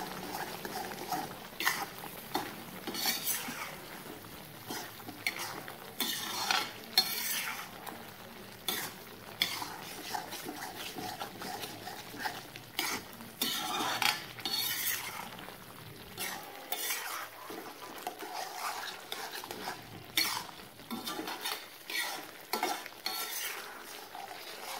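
Chicken karahi with ground dried coriander being stirred in a pan, with steady scraping and clinking of a spoon against metal over a soft sizzle, continuous and close throughout.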